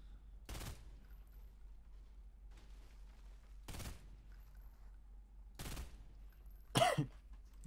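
Burst rifle fire from the Fortnite video game rings out as four short, separated bursts spaced a few seconds apart over a quiet background, with the last burst the loudest.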